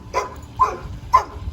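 A dog barks three times at regular intervals, short sharp barks fairly close in a quiet space.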